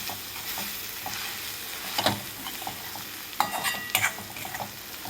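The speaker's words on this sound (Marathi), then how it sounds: "तर इथे मिक्स करून घ्यायचं आहे बघा व्यवस्थित" Paneer bhurji stirred with red chilli powder in a pan: a steady low sizzle broken by close scraping spoon strokes, with sharper clatters at about two, three and a half and four seconds.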